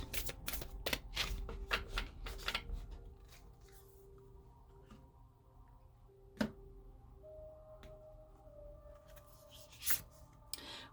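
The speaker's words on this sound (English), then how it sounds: "Shuffle a couple more times, and then we'll cut the deck." Cards being shuffled in quick crisp riffles at the start, followed by quieter sporadic taps and a couple of sharp clicks as the deck is handled.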